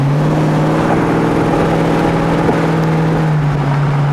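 A restomod 1968 Olds Cutlass convertible cruises down the road with the top down at about sixty miles per hour, its engine a loud, steady droning hum with constant wind and road roar.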